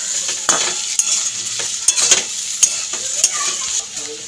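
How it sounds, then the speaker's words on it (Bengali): Potatoes fry in oil while a spatula stirs them to brown for a prawn fry, giving a continuous close sizzle broken by sharp scraping knocks against the pan. "লাল লাল করে আলুটাকে ভেজে নেবো একদম।"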